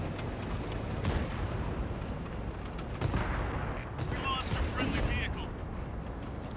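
Tank cannon fire in a video game, several booming shots standing out over a constant dense rumble of battle and engine noise.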